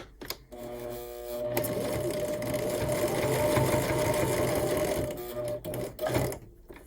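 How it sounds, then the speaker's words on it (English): A sewing machine stitches ribbon binding onto a micro mini Christmas tree quilt with a 1/8 inch seam: a close, rapid, even mechanical whirring hum that runs for several seconds and then slows and stops, with short pauses around it. "you want to sew it on using a 1/8 of an inch seam all the way around"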